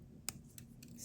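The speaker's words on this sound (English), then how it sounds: "Snip it again." Wire cutters snip craft wire while wrapping double-stone earrings set with resin cabochons, giving one sharp, close click followed by two fainter snips in a quiet room.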